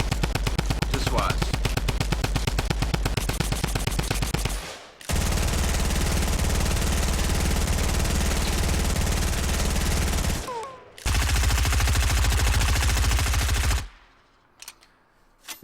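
SMG automatic fire in a video game, long continuous bursts of rapid gunshots, loud and close, broken by two short pauses and stopping near the end.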